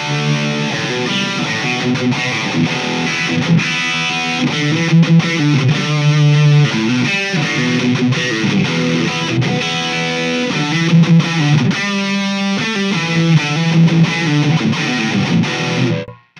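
A 2008 Epiphone Les Paul Custom electric guitar on its bridge pickup through heavy distortion, playing a loud, continuous riff of saturated chords and notes for about sixteen seconds before cutting off.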